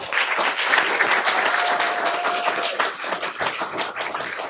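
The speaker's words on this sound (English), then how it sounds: "a big round of applause, please" A room full of people at a school board meeting applauds, a dense, continuous clapping that stays loud and even throughout, with a faint voice briefly audible beneath it.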